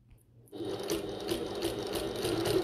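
A sewing machine stitches bucket tote bag panels, its motor starting after a brief quiet moment and then running steadily with a fast mechanical needle chatter, close and moderately loud.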